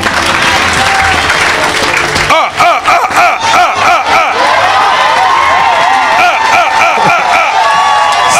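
A church congregation applauding and cheering in acclamation at a worship service, a loud, dense wash of clapping and shouting voices that continues throughout.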